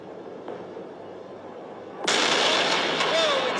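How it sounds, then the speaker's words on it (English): Missile explosions and interceptor launches during an attack in the Israel–Iran war: a sudden loud, broad blast of roaring noise that stays intense to the end, after a quieter stretch of distant rumble. "Whoa, explosion! All kinds of interceptors."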